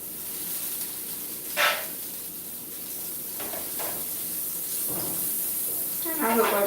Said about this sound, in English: get a little bit of butter in the pan. And right now what I'm going to do is sear the steaks first.